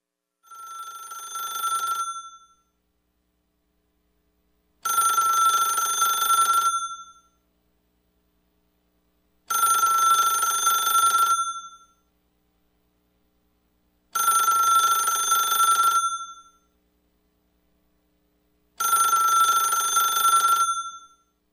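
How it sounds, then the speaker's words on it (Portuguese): An old telephone rings in five evenly spaced bursts, each about two seconds of bright, rattling bell tone separated by silent gaps, clear and alone. "Telefone antigo, nossa, telefone antigo, era essa a ideia."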